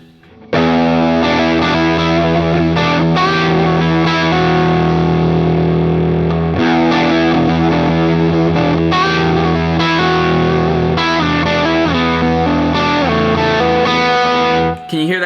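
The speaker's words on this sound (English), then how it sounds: "We're gonna play with the ripple effect now." Electric guitar through an HX Stomp amp model with a ripple effect: dense, overdriven chords with a warbling, modulated shimmer, loud and sustained throughout.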